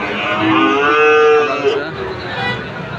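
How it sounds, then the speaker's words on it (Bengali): Sahiwal bull calves moo repeatedly on a farm, long drawn-out bovine calls, close and loud, with no talk. "আপনারা দেখছেন এখানে এগারোটা বাছুর কত সুন্দর সব খামারের জন্য"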